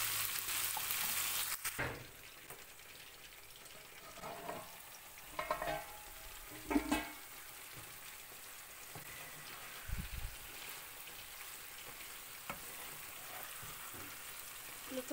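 Chicken liver roast with masala cooking in a covered pan, a steady low sizzle and frying crackle running throughout with scattered soft pops and clinks.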